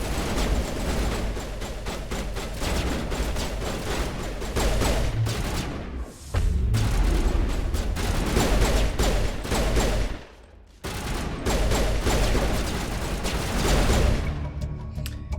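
Sustained gunfire rattles through a firefight in Mass Effect as mercenaries battle an Alliance Marine, dense overlapping bursts running almost nonstop with two brief lulls, loud and close throughout.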